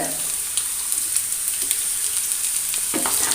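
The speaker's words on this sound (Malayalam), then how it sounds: "ഞാൻ ഒരു രണ്ട് സവാള കൊത്തി അരിഞ്ഞത് ഇട്ട് കൊടുക്കുന്നുണ്ട്" Chopped onions sizzle and fry steadily in a pan for a Kerala-style drumstick flower thoran, a continuous close crackle with small stirring scrapes and a brief louder clatter near the end.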